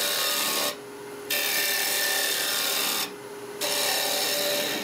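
A woodturning gouge cuts down a raised lump of wood on a lathe, giving a loud, steady scraping hiss that breaks off twice for a moment between passes and then resumes.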